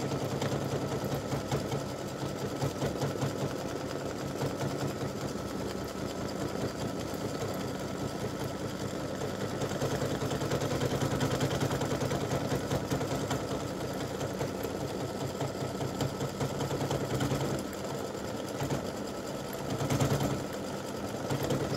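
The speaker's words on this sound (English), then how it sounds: "it's going to go around and do that last little bit of satin stitching, and then it'll be through" An embroidery machine satin stitches a free-standing lace breast cancer awareness ribbon earring, a continuous rapid mechanical chatter with a fast needle rhythm, steady and close for the whole stretch, without any talking.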